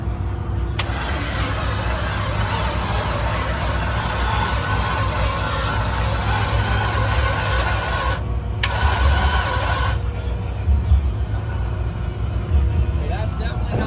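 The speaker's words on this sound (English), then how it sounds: "So actually, I'm gonna see if it starts up now." A crash-damaged race car engine being cranked and started, a continuous rough mechanical drone with a brief dip partway through, loud and close under a constant hum.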